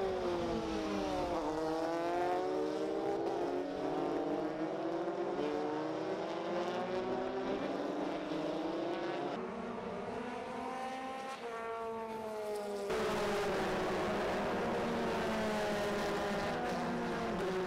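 Formula-style JAF F4 race cars at Motegi circuit scream past continuously, high-pitched engines rising and falling through gear changes, loud and close with no talk.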